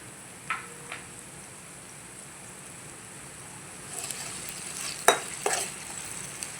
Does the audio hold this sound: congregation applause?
no